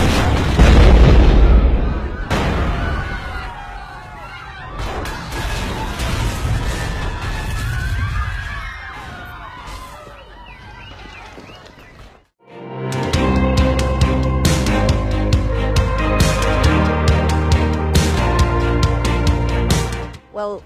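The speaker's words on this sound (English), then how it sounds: "We've got a big explosion happening in the porter cabin." A gas mortar and pyro explosion goes off in a porter cabin, a loud booming blast with crashing debris that decays over several seconds before music takes over.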